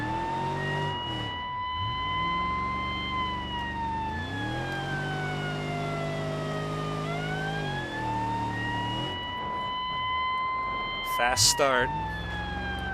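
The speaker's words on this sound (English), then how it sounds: "siren" Police car siren in the BeamNG.drive driving game, a loud continuous wail sweeping up and down through the whole clip, with engine noise beneath and someone talking briefly over it near the start.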